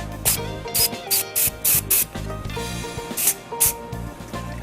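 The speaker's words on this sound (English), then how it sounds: "So I'll give it a little shot of activator." Glue activator sprayed onto the crushed-stone inlay rim of a wood-turned bowl, several short close hissing bursts from a spray pump with brief gaps between them, over faint background music.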